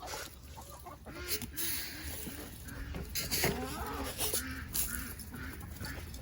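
Ducks coming in for feed give a clamour of quacks and honks, overlapping and fairly close, over a continuous background.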